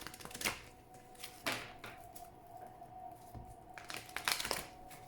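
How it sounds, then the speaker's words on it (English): Oracle cards being shuffled by hand, soft papery riffles and slaps recurring in short bursts with quieter rustling between them, close and faint. "Please think of your question as I shuffle the cards."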